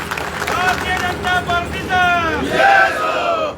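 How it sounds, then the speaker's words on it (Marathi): A crowd at a BJP political campaign rally cheers and shouts in loud, rolling waves of voices, with clapping mixed in under the noise. "आपण सर्वांनी अण्णांचं जोरदार टाळ्या वाजवून अभिनंदन करायचं"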